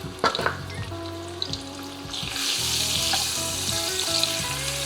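Garlic, chicken breast and shrimp stir-frying in a wok, with a few sharp clanks and scrapes of stirring at first, then a strong, steady sizzle that swells and carries on under repeated stirring strokes.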